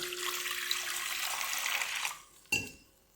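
Roasted moong dal and urad dal being washed in water: continuous splashing and sloshing for about two seconds, then a quieter pause and a sharp clink of a vessel near the end.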